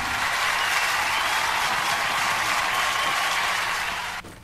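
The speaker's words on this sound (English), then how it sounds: "Can I get a round of applause before we do?" Steady, dense applause from a crowd fills several seconds before cutting off abruptly at the end.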